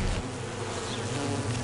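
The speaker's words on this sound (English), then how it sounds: "the guard bees furiously bite at his legs" Honeybees buzz at close range around their hive, a steady, dense drone of many wings holding constant throughout.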